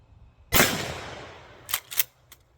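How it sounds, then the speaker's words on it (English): Remington 870 20 gauge shotgun firing a rifled slug through a rifled choke tube outdoors: a single loud, sharp blast with a long decaying echo, followed by a few fainter clicks of handling. "First shot."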